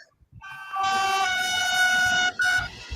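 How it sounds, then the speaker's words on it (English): Electric train engine in Minecraft speeding up, a sustained horn-like harmonic tone with a rumbling rail rattle underneath that holds steady, breaks off briefly, then resumes. "Do you want to see how fast this train can go? This engine can go."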